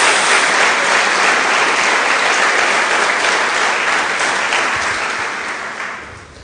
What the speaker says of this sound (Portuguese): Não é salva de palmas a Jesus?